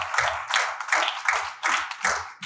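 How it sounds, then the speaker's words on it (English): Audience at a Pakistani American Independence Day celebration clapping in a loose, steady rhythm, bursts repeating roughly every third of a second, close and fairly loud with no talk over it. "Let me see who can clap for me."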